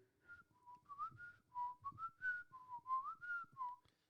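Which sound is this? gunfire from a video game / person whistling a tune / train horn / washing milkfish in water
person whistling a tune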